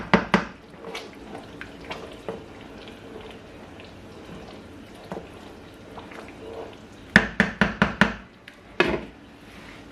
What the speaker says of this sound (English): I'm just going to open it and give it a quick stir